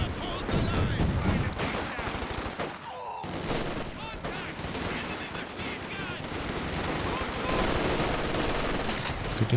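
M1919 machine guns fire in the real-time strategy game Company of Heroes 2, with dense rapid bursts and overlapping battlefield gunfire running continuously under a commentator's talk.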